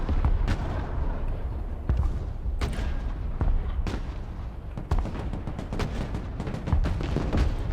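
Artillery direct fire in the Broken Arrow war game, repeated sharp booming shots at irregular intervals over a continuous rumble of battle.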